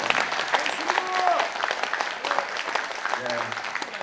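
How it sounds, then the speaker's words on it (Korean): An audience claps and murmurs at a Korean security lecture, a steady wash of applause running for the whole stretch, with a voice speaking over it. "여러분들 박수합니다"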